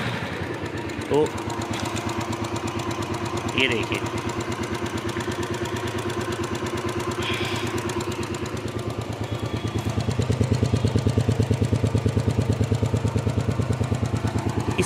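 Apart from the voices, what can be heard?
motorcycle engine idling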